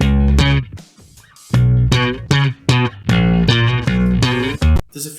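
Layered finger-plucked bass parts play a punchy, loud line of deep repeated notes in a groove with short pauses, dense and close with nothing else over them.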